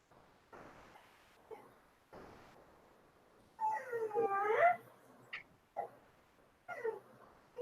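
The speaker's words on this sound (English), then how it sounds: "My dogs are very vocal this morning." Dogs at home in the morning whimper and yip in short bursts, one longer whining, howl-like cry in the middle, fairly close in an otherwise quiet room with faint background.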